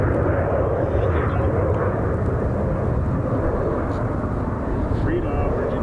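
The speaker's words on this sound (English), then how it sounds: "Here's United. It's flight 2061, max 8 out of Fort Lauderdale." A United Boeing 737 Max 8 airliner on final approach passes as a loud, steady, broadband jet roar that rumbles continuously throughout, close overhead.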